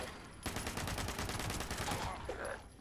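Sustained automatic gunfire while aiming down sights in Fallout 76 gives a dense, rapid burst lasting about two seconds, loud and steady, then cutting off, with no speech over it.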